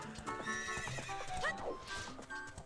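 In Zelda: Ocarina of Time, a horse gives a loud whinny over rhythmic clip-clop hoofbeats, set against the game's melodic background music, with a faint voice at times.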